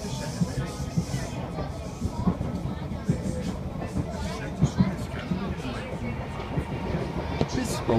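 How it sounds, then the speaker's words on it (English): A Merseyrail class 507 electric train rumbles along near Liverpool with a steady, dense roar and faint rhythmic rail clatter, heard from inside or nearby, with some background voices. "That's another train coming."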